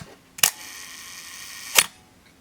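A Minolta SRT-101 35mm film camera fires its shutter at a one-second speed. Two sharp mechanical clicks sit about 1.3 seconds apart with a quiet gap between them, heard up close and without talking.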